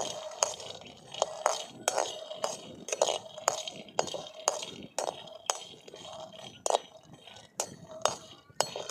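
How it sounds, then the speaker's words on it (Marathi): Peanuts roast in a pan while a spatula turns them, producing a steady run of bright metallic clinks and rattles in an uneven rhythm, close up with faint room noise beneath. "अगोदर शेंगदाणे भाजून घेऊ"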